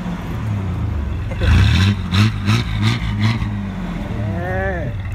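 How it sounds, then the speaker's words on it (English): A Chevy S10 truck engine revs in several short bursts, loud and close, with a voice speaking over part of it. "Rev it up."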